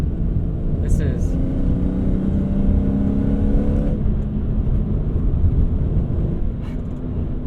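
A BMW E46 M3 ZCP with its engine in sport mode pulls hard under acceleration, a steady loud cabin drone with rising harmonics, and people talk over it.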